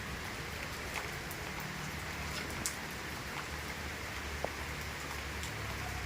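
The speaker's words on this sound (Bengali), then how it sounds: "তারপর বৃষ্টি শুরু হয়ে গেছে" Steady morning rain falls continuously as an even, hissing wash with faint scattered drips and no voices.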